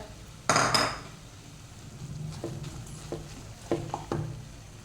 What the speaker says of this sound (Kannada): ಕೊತ್ತಂಬರಿ ಸೊಪ್ಪು ಹಾಕ್ಕೊಂಡು ಚೆನ್ನಾಗಿ ಮಿಕ್ಸ್ ಮಾಡಿದ್ದೇನೆ